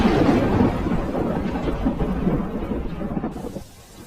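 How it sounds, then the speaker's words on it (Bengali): Cartoon thunderstorm: a deep rolling rumble of thunder over steady pouring rain, loud at first and easing off toward the end, with no voices. "এই যে আকাশ থেকে বৃষ্টি হচ্ছে রে"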